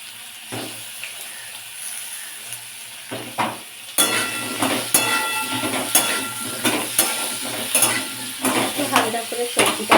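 Potato, pumpkin, flat beans and eggplant fry in a pan. After a few quiet seconds a brisk sizzle rises, punctuated by frequent scraping stir strokes, close up and without speech.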